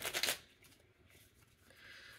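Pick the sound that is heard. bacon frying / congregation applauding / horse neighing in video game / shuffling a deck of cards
shuffling a deck of cards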